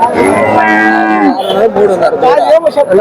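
At a cattle market, a cow gives a long, loud, close moo, followed by more lowing calls from cattle and calves nearby.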